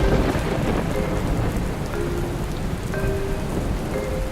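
Heavy rain pours steadily on a surface while thunder rumbles low underneath, with a few faint tonal sounds breaking through the constant downpour; no one speaks.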